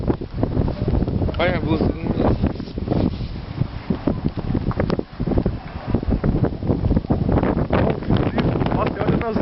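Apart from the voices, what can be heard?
strong cold wind blowing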